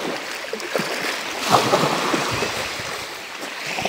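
Surf washing and breaking on a shore, a steady rushing roar with a fuller swell near the middle, close by.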